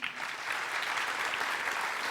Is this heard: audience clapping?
yes